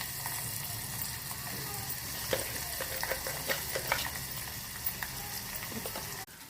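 Red chilli pickle ingredients fry in oil while being stirred, giving a continuous soft sizzle punctuated by scattered utensil scrapes and clicks, close by with no speech.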